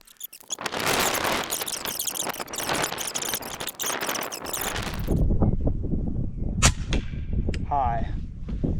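An air rifle fires at a target during scope testing, a sharp crack amid close handling noise, followed by a few short metallic clicks.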